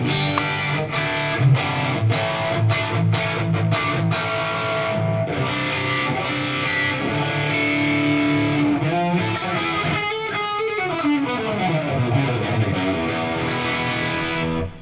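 Electric guitar played through a multi-effects unit's crunchy tube-style overdrive, with chords and single-note runs ringing out loudly and continuously.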